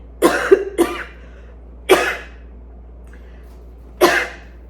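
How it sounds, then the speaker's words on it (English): A person coughs four times, two quick coughs close together, then two more spaced apart, each sharp and near, with quiet in between. "Okay, I just started coughing."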